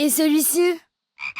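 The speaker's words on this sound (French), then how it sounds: "Une grenouille." A cartoon frog croaks in a short, loud, close burst of harmonic rasping, then falls silent briefly before a second fainter croak.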